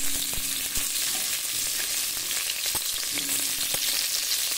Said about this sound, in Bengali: আলুটাকে প্রথমে একটু খুব সুন্দর করে ভেজে নেব